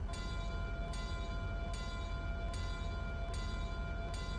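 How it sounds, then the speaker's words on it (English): Union Pacific locomotive bell from the Trainz Simulator 3 game clangs in a steady rhythm of about six strokes, each ringing bright and loud over continuous low engine rumble. "And that's a bell."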